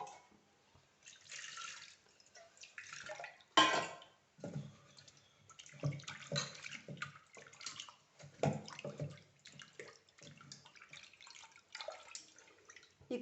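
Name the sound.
water being poured into dal for cooking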